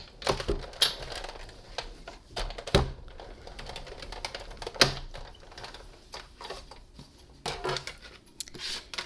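A manual die-cutting machine cranks cutting plates through in a series of irregular clicks and clacks, with a soft mechanical rattle running between the sharper taps.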